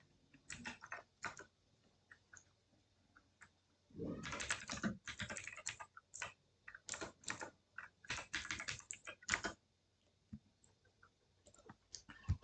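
Typing a table name on a computer keyboard, with bursts of rapid close key clicks separated by short pauses, steady and fairly quiet throughout.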